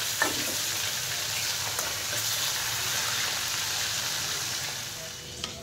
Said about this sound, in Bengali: আমি এই মাছগুলো দিয়ে দিচ্ছি। হালকা সামান্য একটু ভেজে নেব।